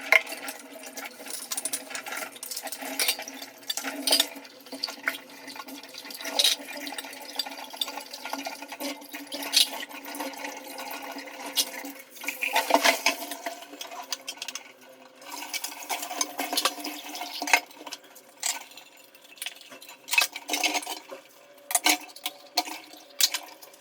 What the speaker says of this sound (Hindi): तो फटाफट मैं पहले बर्तन साफ़ करती हूँ